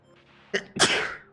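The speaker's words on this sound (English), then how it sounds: "That was a sneeze." One close, sharp human sneeze: a short intake followed by a loud, breathy burst that trails off over about half a second.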